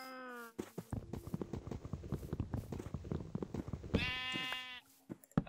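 Sheep in the Minecraft Feed The Beast modpack let out two drawn-out bleats, one at the start and one near the end, with a quick run of clicks and taps in between.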